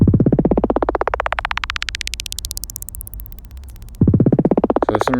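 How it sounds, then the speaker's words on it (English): A kick drum phrase repeats in fast, evenly spaced hits while an ascending pitch effect sweeps the whole run steadily upward, loud and alone. After a brief gap, a second rising run begins. "I want to create a rising effect for this entire phrase"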